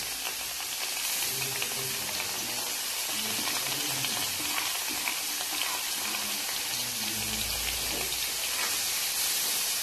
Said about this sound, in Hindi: अब मैं सारी गाजर ग्रेट की हुई इसमें डाल दूँ और चमचा चलाती जाऊंगी